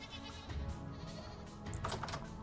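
Goats in the video game Vintage Story bleat over a steady background hum, with a wavering, nasal call near the start and another shorter one toward the end.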